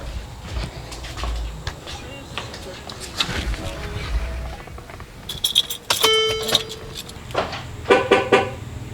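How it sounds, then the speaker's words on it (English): A Mercedes-Benz C-Class is locked outdoors, giving a couple of short electronic chirps about two seconds apart against steady background ambience. "let's remove the key and lock the car"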